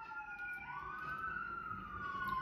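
A distant siren wails, its pitch sliding up and down, faint over a low background hum.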